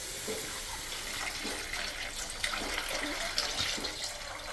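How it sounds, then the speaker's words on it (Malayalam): Water pours steadily into cooking masala for semiya biryani, making a close, continuous splashing rush with no one talking. "ആവശ്യത്തിന് വെള്ളം ഒഴിക്കുക."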